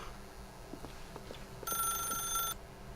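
An old telephone rings in The Stanley Parable video game, one bright electric bell trill about a second long rising out of quiet background hum and faint clicks.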